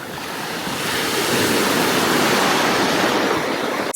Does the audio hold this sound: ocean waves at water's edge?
yes